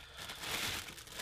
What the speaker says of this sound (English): They just come in a little plastic bag.